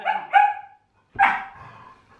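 Rosie, a dog, lets out two quick harmonic barks, then a pause and a third bark trailing into a low grumble, close and fairly loud with no talking.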